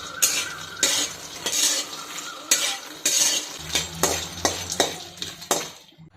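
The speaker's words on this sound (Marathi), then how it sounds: "त्याच्यामुळे मग असे सुके परतून घ्यायचे मखाने" Fox nuts (makhana) dry-roasted in a pan without ghee, tossed with a spatula in quick rhythmic scrapes and rattling knocks against the metal, each stroke close and distinct, fading at the end.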